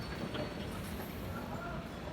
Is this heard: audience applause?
no